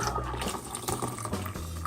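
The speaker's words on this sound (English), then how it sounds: "And then we add some water." Water pours briefly into a cup of matcha green tea lemonade with a soft, bubbling, liquid gurgle, close and fairly quiet.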